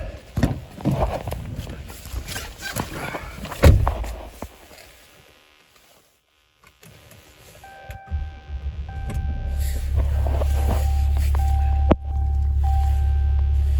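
A 2022 RAM 2500 Laramie Cummins diesel cranks and fires up. After a short silence the engine settles into a steady, deep idle, and a chime sounds inside the cab.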